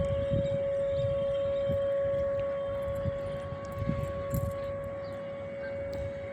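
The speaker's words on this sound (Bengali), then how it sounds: "সেই পুরনো নিয়মটা আজও কলকাতায় চলছে সাইরেন বাজে আজও বাজছে" A Kolkata factory siren sounds the half hour with a single steady, sustained tone that holds for the whole stretch, over a low background rumble of the city.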